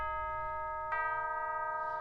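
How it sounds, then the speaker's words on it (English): Big resonant bells in a staccato section of a Christmas arrangement of O Holy Night. A bright bell strike lands about midway over a steady sustained tone and keeps ringing to the end. "the best way I thought to do that was to add some bells in this big section"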